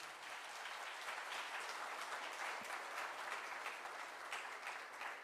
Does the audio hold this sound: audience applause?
yes